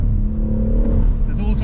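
A BMW M140i fitted with an Eventuri intake pulls hard at full throttle, a brief steady engine drone building under a voice.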